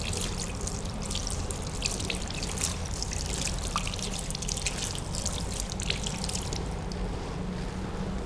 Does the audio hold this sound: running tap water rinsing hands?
yes